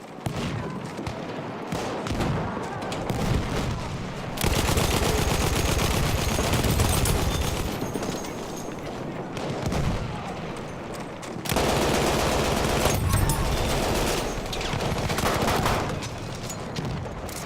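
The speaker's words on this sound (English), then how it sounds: "So let's actually go with the Lewis gun suppressive, as it was something I used to use." A Lewis gun roars in sustained bursts in Battlefield 1, long loud stretches of rapid machine-gun fire broken by short pauses, with other battlefield gunfire around it.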